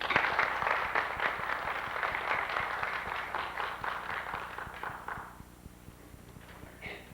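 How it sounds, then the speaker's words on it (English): Auditorium audience applauding Dr. Edison O. Jackson at a Medgar Evers College Black History Month opening program, steady crowd clapping that gradually fades out. "giving a rousing round of applause to our own Chief, Dr. Edison O. Jackson"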